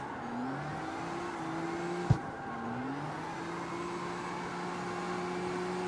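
A G-Wagon with an RB engine idles and cruises in the street racing game CarX Street, giving a steady droning tone that dips briefly, with a sharp click near the middle.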